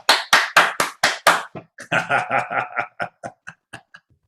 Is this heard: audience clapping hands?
yes